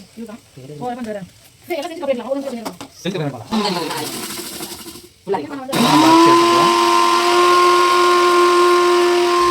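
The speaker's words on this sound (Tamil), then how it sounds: "முட்டை வெந்துச்சுன்னு நினைக்கிறேன் ரெண்டு விசில் வந்ததுக்கப்புறமா முட்டையை எடுத்துடலாம்" Pressure cooker whistling loudly while boiling eggs, a sustained shrill steady whistle after several seconds of talk, with steam hiss beneath it.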